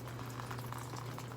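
Water sprays steadily from a hose onto potted orchids outdoors in a humid, jungle-like setting, a constant close hiss and splash with a low steady hum underneath.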